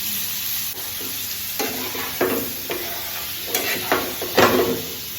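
Capsicum, paneer and peas sizzle loudly in a hot oiled pan while a utensil stirs and scrapes through them, with a few louder scrapes near the end and no voices.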